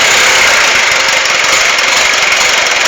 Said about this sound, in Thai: ให้ป๋าเร่งเลย เครื่องดีเครื่องแน่น เครื่องดีเครื่องแน่น